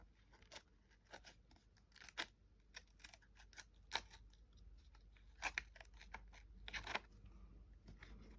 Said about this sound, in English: So we get the scalpel and we just cut